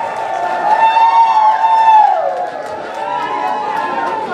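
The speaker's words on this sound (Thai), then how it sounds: "ข้างหลังดังมากค่ะข้างหลังเชียร์ดังมากค่ะ" Wedding guests cheer and shout for the bride and groom in a loud, continuous crowd roar that swells and then eases slightly. Mixed voices and chatter blend throughout.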